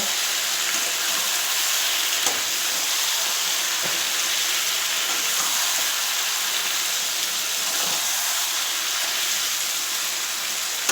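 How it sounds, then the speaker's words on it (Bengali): Ground spice paste fries in a pan for a duck curry with bean seeds, giving a continuous, even sizzling hiss that barely changes from start to finish. "এই মশলা দিয়ে এবার আমি একটু কষিয়ে নেব"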